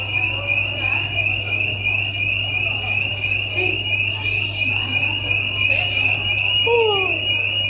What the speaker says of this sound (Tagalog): Bakit ba yan may alarm-alarm?